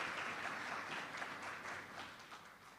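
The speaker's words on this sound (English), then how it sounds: "clap your colleagues now" Applause for colleagues fills a hall at a Jamaican certification body event, a faint, even patter of many hands clapping from a distance.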